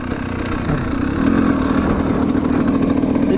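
A KTM SX 250 two-stroke dirt bike engine runs steadily nearby, its buzzing note rising slightly as it revs, with no voices.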